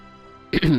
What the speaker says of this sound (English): you'll have to excuse me clearing my throat and whatnot.